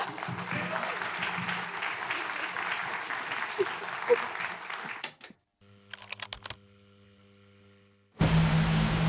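Audience applause greets a cave explorer taking the stage at a film screening, a broad steady clatter of clapping for about five seconds before breaking off into quieter room sound, then surging loudly again at the end.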